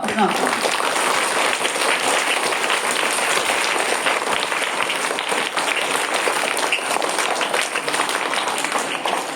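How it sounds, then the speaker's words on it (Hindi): A large audience breaks into loud, sustained applause at a child abuse awareness event in India, dense clapping filling the whole stretch at a steady level. "एक बार जोरदार तालियां सब।"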